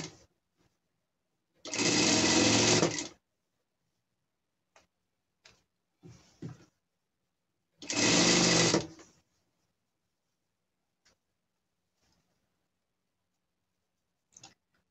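A straight-stitch sewing machine sews a French seam on a pet gaucho costume, running in two loud, steady bursts separated by quiet pauses with faint handling clicks and no talk.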